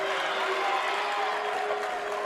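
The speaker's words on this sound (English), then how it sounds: "applause from the crowd" Crowd applause fills a college basketball gym at a junior college game. The clapping is dense and steady, with no break, and carries a slight roar of voices from the stands.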